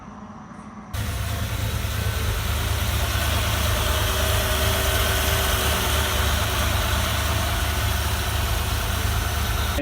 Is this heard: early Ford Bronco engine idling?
yes